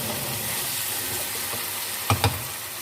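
Minced meat keema fries in a kadhai with a steady, close sizzle, and two short louder clatters of stirring land near the end.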